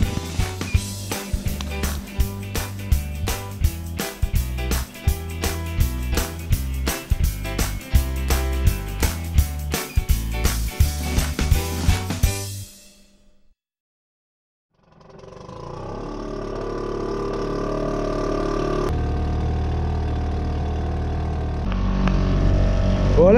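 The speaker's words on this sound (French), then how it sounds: "j'ai le moteur qui est tout de même accéléré et j'avance pas, je fais du surplace" Outboard motor on a small sailboat runs accelerated in a gusty estuary, a steady throbbing drone with rhythmic pulses, then a cut-out and a lower, smoother engine hum returning.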